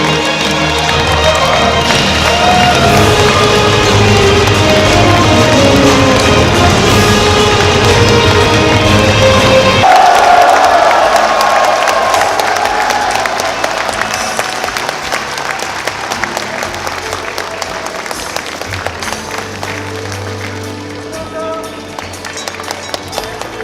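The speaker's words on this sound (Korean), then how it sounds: "여러분 큰 박수 부탁드립니다." Loud, dense applause from the audience at a party convention, sustained for around ten seconds before thinning into scattered clapping and crowd noise that continues faintly to the end.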